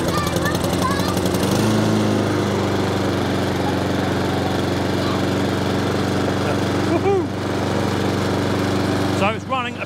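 A Honda walk-behind lawn mower with an oil leak at the governor arm starts and runs steadily near the listener, a loud continuous engine drone, with people talking over it.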